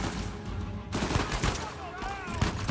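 Gunfire in Uncharted 4, with dense overlapping bursts and shots crackling loudly throughout the short stretch, mixed with other game sounds and no clear speech.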